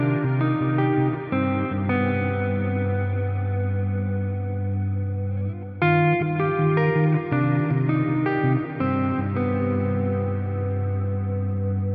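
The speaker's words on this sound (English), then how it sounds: "Have a listen to the same thing, but with the pre-delay at 60 milliseconds." Electric guitar played through an Axe Fx III Plex Verb set to 60 ms pre-delay, sustained chords and ringing notes swelling into a lush, shimmering ambient wash with long reverb tails, loud and continuous with a brief dip midway.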